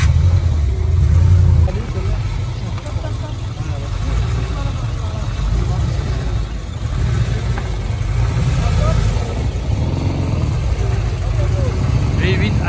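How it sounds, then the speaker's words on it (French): An orange V8 Aston Martin DBS engine rumbles and revs at close range in a continuous, loud drone with slight swells, while people talk nearby. "V8 Aston Martin"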